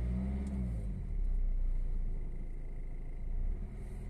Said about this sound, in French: je vais maintenant accélérer. Jusqu'à 2000 tours minute.